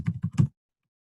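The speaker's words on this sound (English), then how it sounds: "I have to start typing the address, and I have to start typing the price" Three or four quick keystrokes on a computer keyboard tap out close and fairly soft, then stop, leaving silence.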